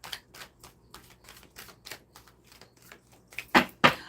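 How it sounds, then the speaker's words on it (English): Tarot cards are shuffled by hand in a quiet room, making a run of soft, quick riffling clicks that end in two louder snaps, close and faint overall with no speech. "One shuffle for Gemini"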